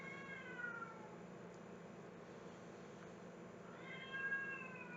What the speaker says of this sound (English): My cat is trying to fight again, you guys.